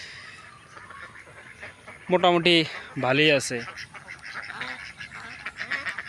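Month-old ducklings kept in a confined pen let out two loud, close bursts of rapid quacking, followed by a person speaking briefly.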